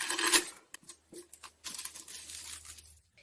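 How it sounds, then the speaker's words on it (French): Scissors cutting around the edge of a cheap wooden fence panel craft piece, a series of short crisp snips and rasping cuts, close and fairly loud, with brief pauses between strokes and no talking. "Je vais faire le tour et simplement couper."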